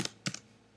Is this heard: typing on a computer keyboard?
yes